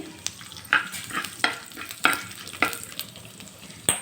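Oil crackles and sizzles steadily, with sharp pops bursting out every half second or so as cumin, mustard seeds, dried red chillies and curry leaves hit the hot pan.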